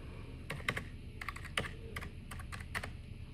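Someone types on a computer keyboard in quick, irregular bursts of close, crisp key clicks over a faint background hiss.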